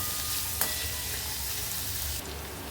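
Onion, garlic and a small piece of ginger sauté in a hot pan for a vegetable curry, giving a steady close sizzle and hiss with a brief stirring scrape, and no voices.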